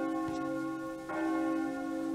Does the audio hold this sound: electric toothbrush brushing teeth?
no